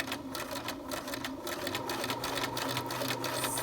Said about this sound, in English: I'm stitching a 1/2 inch seam allowance because that's what my pattern calls for